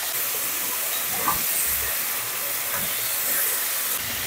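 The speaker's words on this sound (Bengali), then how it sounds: "কপিগুলো ভাজা হয়ে গেছে," Cauliflower pieces frying in oil with turmeric give a loud, continuous, close-up hissing sizzle that stays even throughout.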